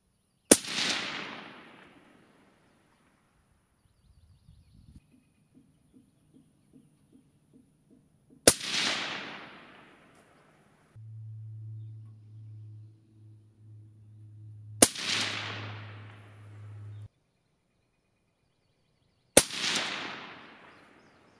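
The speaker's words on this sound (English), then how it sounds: "Let me show you that shooting sequence." Four sharp 6mm ARC rifle shots fired at a 100-yard range, each a loud crack with a fast-decaying tail, spaced several seconds apart, with faint clicks and a low hum from equipment between them.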